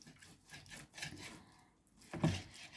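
A knife cuts chicken thigh and drumstick trimmings into small pieces on a board. Quiet, irregular slicing and scraping strokes end in one heavier chop, with no talking.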